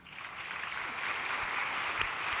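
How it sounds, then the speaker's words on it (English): Audience applause at a young women's distinction awards event, building quickly into dense, sustained clapping from a full room, steady and moderately loud with no talking over it. "Thanks to the applause, that shows your support"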